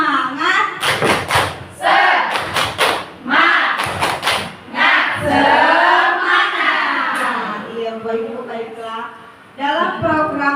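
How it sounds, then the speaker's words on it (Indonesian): A group at a primary school teachers' mathematics workshop performs the tepuk semangat, loud bursts of rhythmic clapping and thumps in a set pattern, with voices chanting along between the claps. "Yuk, tepuk semangat dulu."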